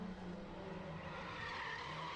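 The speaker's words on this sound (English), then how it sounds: "Tires are squealing, dirt tracking in out of turn number 4, up toward the wall" Race car coming out of turn four on a dirt track during qualifying, a sustained tire squeal and engine roar carrying steadily, moderately loud and alone without talk.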